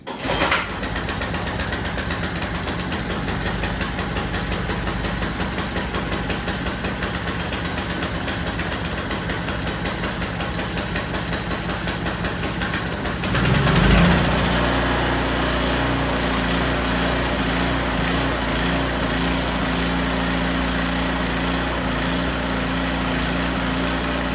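A small engine, just fitted with a swapped fuel valve and air filter, starts on the pull cord and then runs steadily with a loud, buzzing idle close by, the pitch shifting slightly after a brief surge.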